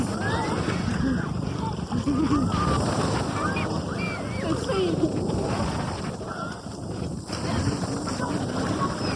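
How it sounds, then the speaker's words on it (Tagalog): Strong sea waves at a beach resort in Zambales, heard as a steady rush of surf with heavy wind buffeting the microphone. Voices talk over the noise throughout. "Ang lakas ang alon"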